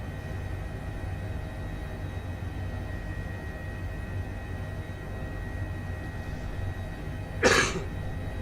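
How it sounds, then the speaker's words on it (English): A single short cough near the end, close and fairly loud, over a steady low simulated helicopter cockpit drone. "Excuse me, apologies for the cough."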